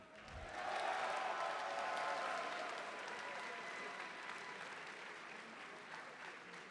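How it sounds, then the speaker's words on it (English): A crowd at the Genesis 8 Super Smash Bros. Ultimate tournament breaks into sustained applause that swells quickly, then tapers gradually while clapping continues at a steady, fairly distant level. "Give it up for Moist Esports' very own Light!"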